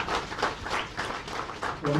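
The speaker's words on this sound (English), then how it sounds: "A round of applause for the symbolic signing" Applause at a formal ceremony as the President symbolically signs the Cyber Security and Crime Act 2021, a steady crowd clapping wash lasting the whole moment with a voice briefly audible near the end.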